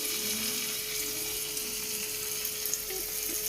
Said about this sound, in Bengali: এখানে আমি রান্না করে নিচ্ছি, মাছ ভাজছি।